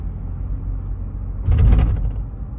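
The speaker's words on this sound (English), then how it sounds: "we're just gonna go over the speed bumps and see how much of them we feel in the car" A Toyota Prado 120 Series rolls over a speed bump, heard from inside the cabin: steady low road rumble, then a brief thumping jolt with rattles, then the rumble settles again.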